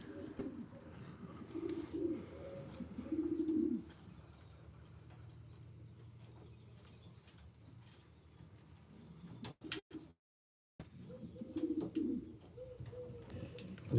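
White flight pigeons coo in a breeder loft, soft repeated throaty bursts near the start and again toward the end, with quieter rustling and a short dropout between them.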